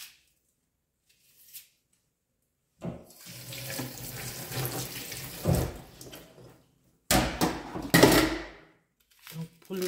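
A kitchen tap runs while vegetables are washed for a fish broth, with water gushing and splashing in two main bursts after a quiet start, plus a few clatters.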